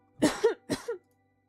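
A voice imitates a character's dry cough for a visual novel game: two quick, close, throaty coughs in a row, then silence.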